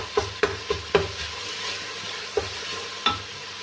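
Spiced masala being mashed by hand and fried in a pan for aloo gobi, with a soft continuous sizzle and several sharp spoon knocks against the pan, moderately close, no talking.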